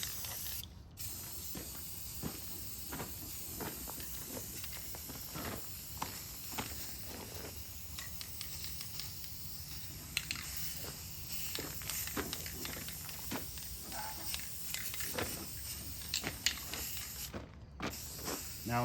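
Textured Krylon spray paint hisses steadily onto an arcade cabinet under restoration, with repeated short bursts and a steady rattle of handling noise, close and fairly quiet, with no talking.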